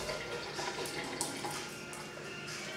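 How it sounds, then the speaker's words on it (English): Warm tap water runs steadily over raw pot roast meat being rinsed in a kitchen sink, a soft, constant splashing stream with no voices. "I'm just gonna rinse it off with warm water just to give it a quick rinse."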